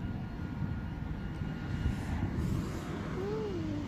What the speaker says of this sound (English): un helicóptero. Do you see it?